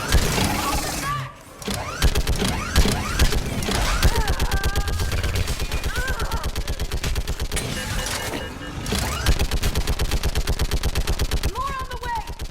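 Rapid automatic gunfire in the Mass Effect video game, long sustained bursts of loud, close shots with brief pauses, while voices shout over the battle.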